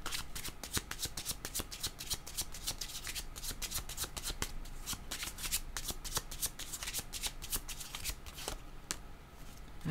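A deck of cards is shuffled repeatedly up close, giving rapid crisp riffling bursts in a quick uneven rhythm that continue for the whole stretch, with no talking.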